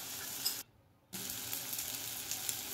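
Onions with garlic paste and turmeric hitting hot oil in a pan, a steady bright sizzle that cuts out briefly for about half a second and then resumes at the same level.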